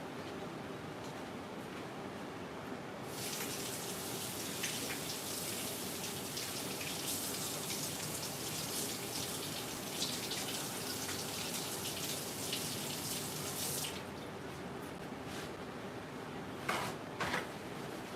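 Water runs from a sink tap onto hands while nails are washed, a steady hiss that swells loudly for several seconds before dropping back to a softer trickle with a few splashes.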